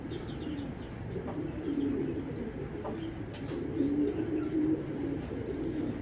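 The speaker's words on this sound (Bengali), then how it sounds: "দানব সাইজের একটা কবুতর" A large racer pigeon coos steadily in low, soft rolling calls, fairly close and continuous, with faint chirps and background room noise.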